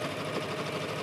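A Singer sewing machine stitches along a t-shirt hem, giving a steady, continuous mechanical whir at close range with no talk over it.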